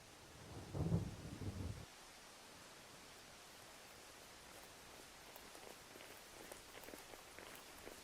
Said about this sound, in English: I can barely see anything squinting past the battering rain